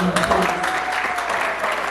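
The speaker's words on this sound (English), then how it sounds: "Let's give her a round of applause" Applause from an audience honoring a woman at a gathering, a dense steady patter of clapping filling the whole stretch with some faint voices mixed underneath.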